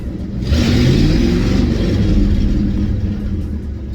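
A car engine with a 4-barrel carburetor revs hard to about 6,000 RPM, a loud, close roar that swells quickly, holds steady, and then eases slightly at the end.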